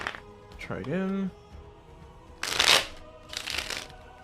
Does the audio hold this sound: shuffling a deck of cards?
yes